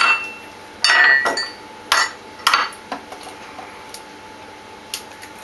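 Eggs for a lemon meringue pie are cracked and separated into bowls, with several sharp clinks and taps of shell and glass or ceramic, close and loud, spaced out and then fading to lighter ticks.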